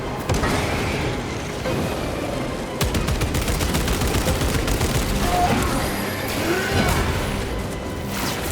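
Frag grenade blast in the Space Marine 2 game amid a dense battle, with loud booms and rapid gunfire crackling in bursts throughout, busy and close.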